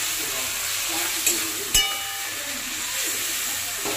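Crab curry fries in a pan with a soft, steady sizzle as it is stirred, and a couple of sharp metallic clinks from the utensil striking the pan rise briefly above the sizzling.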